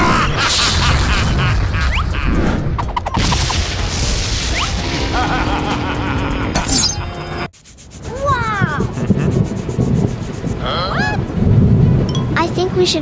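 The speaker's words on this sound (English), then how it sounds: "we should find shelter from the rain." Rain and thunder in an animated cartoon, with dense noisy crashes and rumbles that stay loud throughout, broken by a brief quiet gap and mixed with cartoon sound effects and short vocal sounds.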